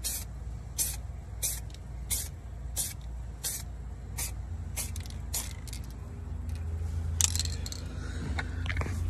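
Repeated short hissing bursts from a shaken spray paint can laying light coats over rust repair on a truck, each spray about a second long, regularly spaced and close, with no talking.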